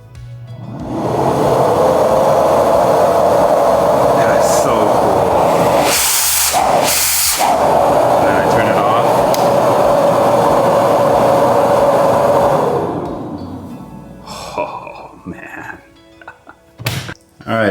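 A Hide-a-Hose garage vacuum system runs with a steady, broad whooshing roar for about eleven seconds, then winds down and fades while someone speaks nearby.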